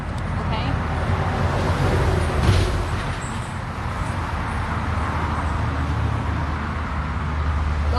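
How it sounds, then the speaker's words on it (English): Steady road traffic rumbles past outside, a continuous mid-level wash of engines and tire noise, while a person talks nearby. "I swear they let traffic just start going."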